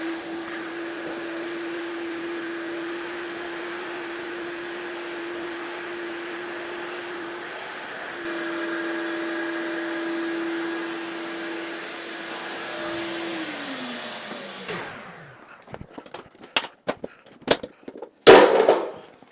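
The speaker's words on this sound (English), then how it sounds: "Will it still suck sawdust up and separate it" A shop vacuum dust collector runs with a steady high whine and rushing air as it sucks up sawdust, then winds down and stops, followed by scattered clicks and knocks.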